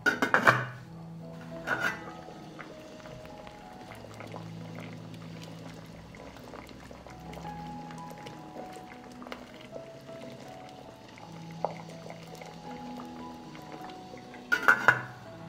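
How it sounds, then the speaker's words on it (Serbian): A pot of water with onion skins set on a stove: metal clanks against the burner at the start and end, with soft bubbling and light liquid sounds in between, quiet and close. "Stavljam šerpu na šporet."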